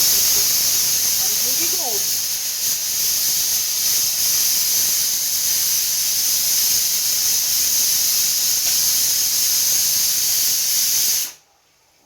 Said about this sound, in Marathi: आणि ही वाजती कुकरची शिट्टी